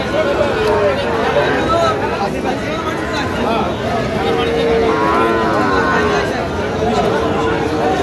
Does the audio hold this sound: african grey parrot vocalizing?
no